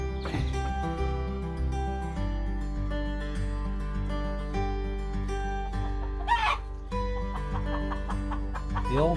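Hens cluck on a smallholding on a cold, foggy winter day. Brief clucks come through over a steady low hum and sustained background tones.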